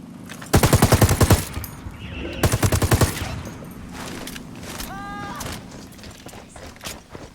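Two loud, close bursts of rapid automatic fire in Ghost Recon Wildlands, each about a second long, separated by a short pause and followed by quieter ambient game sounds.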